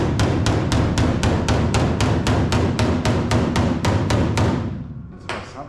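A metal panel is struck by a hammer in a fast, even series of loud, sharp blows, about three per second, which stop near the end before one last lighter hit.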